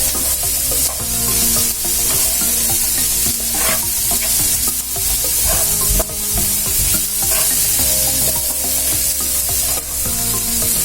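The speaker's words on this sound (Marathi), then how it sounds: "कांद्याला छानसा गोल्डन कलर यायला सुरुवात झाली आहे" Onion for tomato bhurji fries in a pan, a loud continuous sizzle with rhythmic scraping and stirring strokes throughout and no voices.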